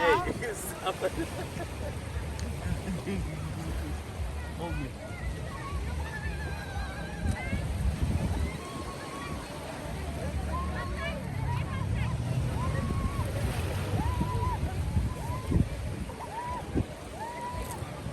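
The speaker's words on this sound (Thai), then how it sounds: "เราเลือกที่จะนั่งสปีดโบ๊ทกลับนะคะ เพราะว่ามันเร็วกว่าเนาะ" Speedboat ride back from Koh Larn island off Thailand, a steady engine and water rush running throughout at close range, with hull slaps on waves and some voices in the background.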